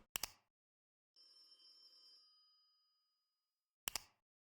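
In a horror video game, a telephone rings in a quiet setting: two short sharp bell bursts, a fading metallic ring between them, then another short burst, isolated against near silence.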